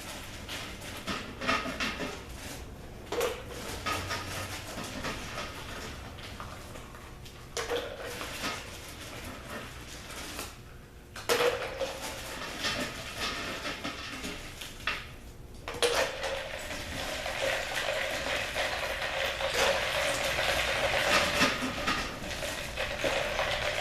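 Ice is scooped and swished around in a lye solution for soap making, giving intermittent clinks and sloshing that builds into a louder, steady churn toward the end, close by with no talk.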